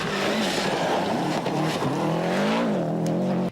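A gas-powered pressure washer rinses heavy dirt and rocks off a Subaru WRX, its loud, steady engine drone wavering slightly in pitch over a constant hissing spray, with no talking.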